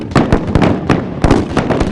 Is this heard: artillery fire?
yes